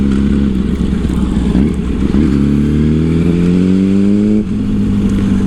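A 2008 Yamaha R1 sport bike revving up loud and close, its engine note climbing steadily through a gear before a brief dip as it shifts, then pulling on again; no voices.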